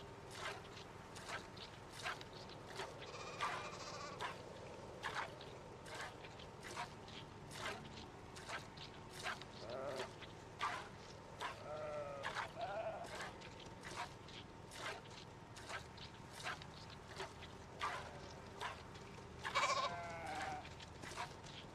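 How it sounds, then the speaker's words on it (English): Sheep and lambs bleat in the video game Project Zomboid, several faint, short calls scattered over a low, steady ambient bed with soft footsteps. "there's a lot of actual more sheep, or more lambs in here than I thought"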